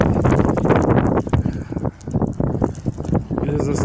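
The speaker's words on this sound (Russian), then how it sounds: "Ветер очень сильный." Strong wind during an April snowfall buffets the microphone in a constant roaring rush with gusty swells, while a voice talks over it.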